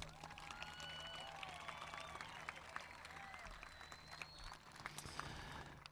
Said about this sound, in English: Students, please give them a big round of applause.